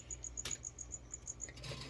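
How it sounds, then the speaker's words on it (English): Tiny feeder crickets chirping in a tarantula enclosure, a quick series of faint, evenly spaced high chirps over quiet room tone, with one brief knock partway through. "there are a bunch of tiny crickets"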